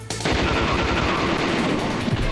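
Continuous gunfire in the video game Metal Gear Solid, a dense, loud stream of rapid shots sustained with no pauses and no voices.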